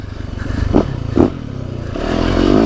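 Off-road dirt bike in the woods, a KTM 300 two-stroke or Yamaha YZ450FX, with a loud, close engine drone that rises as the rider accelerates, along with a couple of brief clattering knocks.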